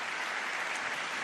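A church audience applauds in a dense, steady wash of clapping that holds evenly throughout, with no voices on top.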